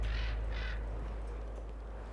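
Two rough crow-like caws from a bird in the horror video game Eternal Darkness: Sanity's Requiem, each about a quarter second long and spaced apart, over a steady low ambient hum with no talking.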